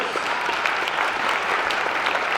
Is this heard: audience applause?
yes